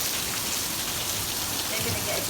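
Summer storm rain falling steadily over agave plants in the Mojave Desert, a continuous broadband hiss of drops that stays fairly even and close throughout.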